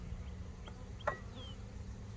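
A low, steady hum of honey bees buzzing close by at a hive, with a brief sharp click and faint higher buzzes passing over it.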